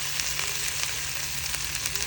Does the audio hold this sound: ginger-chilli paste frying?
yes